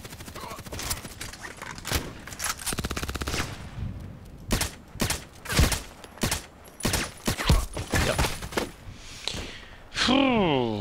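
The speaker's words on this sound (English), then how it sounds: "I'm just shooting and shooting and trying to do something" RFB rifle fire with weapon mods in the game Contract Wars, rattling out in rapid bursts and single loud cracks across the clip, with someone talking between and over the shots.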